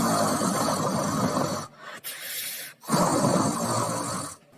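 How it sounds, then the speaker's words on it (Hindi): A giant tree in a Hindi cartoon snores in deep sleep: long, raspy, hissing breaths repeat in a slow rhythm with short quiet pauses between them, loud and close with no talking. "वो तो ऐसे खर्राटे ले रहा था जैसे घोड़े बेचकर सोया हो।"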